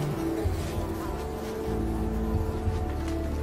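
Bugs buzz steadily in a video game, a close droning hum with wavering pitch that carries on without a break.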